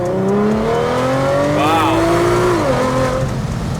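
Supercharged Audi S4 launching with an all-wheel-drive burnout on dry pavement, a loud close engine rising steadily in pitch with supercharger whine, a brief shift dip, then more revving, with voices partly under it.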